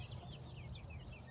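Chickens in a backyard chicken coop, a steady low murmur of soft clucking and fowl chatter with a few brief higher calls, continuous and fairly close, no talk.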